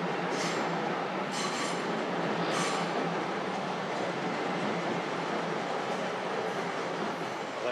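A train runs along a railway track at close range, with other trains passing nearby. Its loud, steady rumble of wheels and carriages fills the whole stretch, with faint squeals rising now and then.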